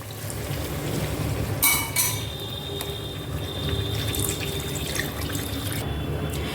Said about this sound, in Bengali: আমি আমার পছন্দ মতন পানি দিয়ে নেব।